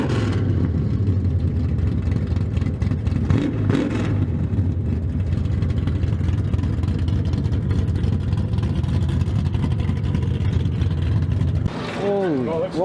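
A 1968 Dodge Charger engine runs at a loud, steady idle-to-rev drone, holding a throaty rumble throughout before a brief dip and swelling rev near the end.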